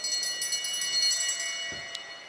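A bell rings steadily and close at a velodrome during a track cycling race, sounding for the laps in a continuous bright metallic ringing that lasts a couple of seconds.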